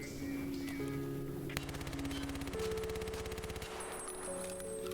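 Sustained PPSh submachine gun fire in Escape From Tarkov, delivered as a few long rapid automatic bursts at range, loud and continuous with tonal game music running underneath.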